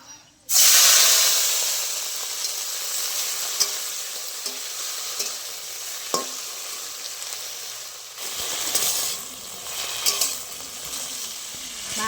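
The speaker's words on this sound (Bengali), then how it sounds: "ধুয়ে রাখা থানকুনি পাতা ওই কড়াই দিয়ে দেবো।" Washed thankuni leaves hit hot mustard oil in a wok and set off a loud, steady sizzle that runs unbroken, with scattered small pops and clicks across it and no voices.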